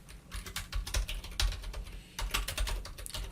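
Fast typing on a computer keyboard while a file name is entered for a school admission form in CorelDraw; steady clusters of close, crisp keystrokes with brief pauses, no voice.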